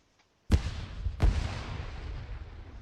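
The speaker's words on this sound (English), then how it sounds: "Lot of random explosions." Two sharp, loud video game explosion blasts from Arma 3 about a second apart, each trailing into a deep rolling rumble, with no talking.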